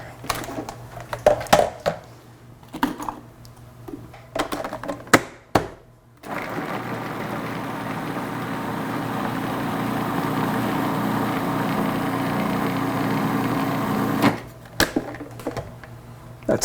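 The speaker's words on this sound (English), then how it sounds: "I process these in the food processor" A food processor whirs steadily for about eight seconds chopping mushrooms, an onion and a shallot, a loud even motor buzz framed by brief clatters and kitchen handling noises before and after.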